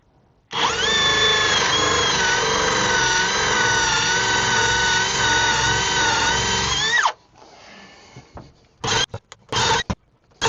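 Power drill boring through a wall into a sewage pipe, a steady loud whine with harmonics that runs for about six seconds and then cuts out abruptly. A few short bursts of handling noise follow.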